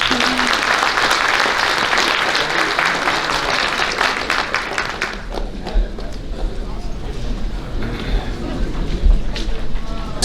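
Audience members at a high school athletic banquet clap in a thick, loud burst of applause that dies down after about five seconds, leaving scattered claps and room noise.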